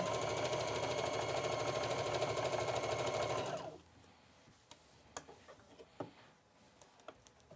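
A sewing machine stitches fabric in a fast, steady mechanical whir for about three and a half seconds, then stops, leaving quiet handling clicks and taps.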